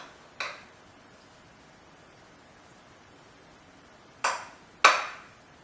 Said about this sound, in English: I am going to put like a baking sheet or something under this in case it were to bubble over